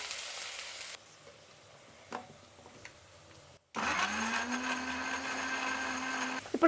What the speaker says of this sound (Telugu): ఇది వేగే లోపల మనం మిక్సీ పట్టుకునేద్దాం